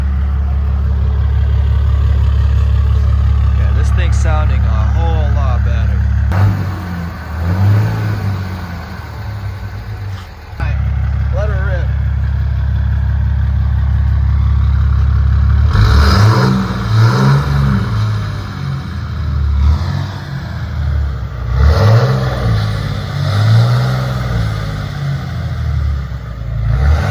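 A deleted and tuned Ram 2500HD Cummins diesel truck idles with a deep, heavy rumble, then is revved in several loud, surging bursts that rise and fall, close to the microphone, with no talk.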